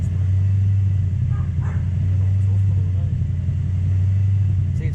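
A supercharged 1UZ V8 in a two-wheel-drive Toyota Hilux idling cold on warm-up enrichment, a steady low deep throb that holds even and loud the whole time, close by, with a voice faintly over it.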